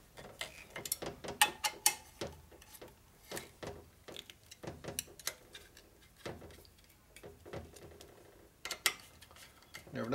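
Ratcheting and clicking of a wrench torquing bolts on the top end of a 1958 Harley-Davidson panhead 74ci engine during a rebuild, in irregular bursts of sharp metallic ticks close by throughout.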